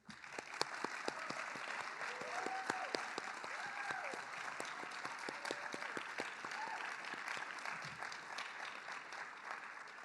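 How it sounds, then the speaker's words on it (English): An audience at a high school National Honor Society induction ceremony applauds its new members, a steady, moderately distant clapping with distinct individual claps standing out and a few faint voices mixed in. "Please join me once again in applauding all of our new Honor Society members."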